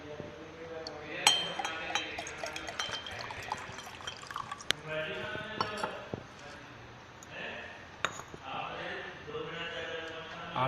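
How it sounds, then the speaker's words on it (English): A solution is poured into a glass beaker in a lab setting where a pH meter is being calibrated, with sharp glassy clinks and a trickle of liquid through much of the passage. "For example, we take some solution in the beaker."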